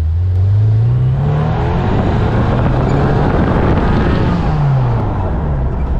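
A 1992 Ferrari 348 TS with a 3.4-litre V8 roars loudly nearby, its pitch climbing through rising revs and gear changes, with wind rushing over the microphone.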